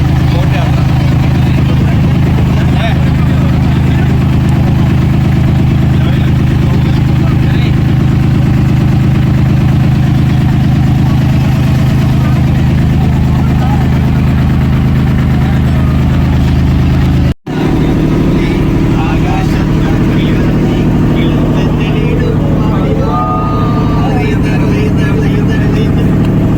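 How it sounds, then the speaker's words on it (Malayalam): A ferry boat's engine on the crossing to Nainativu near Jaffna, a loud steady low drone and rumble that runs throughout, with voices talking over it and a brief sharp break partway through. "നൈനാട്ടീവിലേക്കുള്ള ബോട്ട് യാത്ര."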